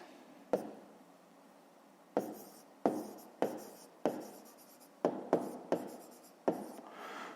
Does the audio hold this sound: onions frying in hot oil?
no